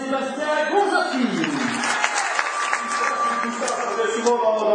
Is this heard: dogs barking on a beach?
no